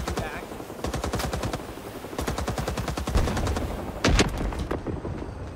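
Rapid automatic gunfire in Rising Storm 2 Vietnam with M14 rifle shots among it: long bursts of crackling reports in quick rhythm, then a heavier close blast near the end, over a busy battlefield background.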